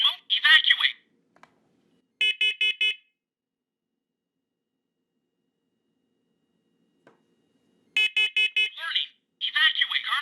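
A First Alert SCO7CN combination smoke and carbon monoxide detector sounds sharp, loud, high-pitched beeps in short clustered bursts separated by silence. The unit's recorded voice speaks between the beeps.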